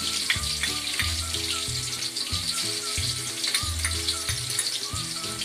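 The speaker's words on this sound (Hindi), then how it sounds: "इसी में हम 2 चम्मच अदरक लहसुन डालेंगे।" Ginger garlic paste fries with onions in a pan for vegetable biryani, a continuous soft sizzle running underneath prominent tonal music throughout.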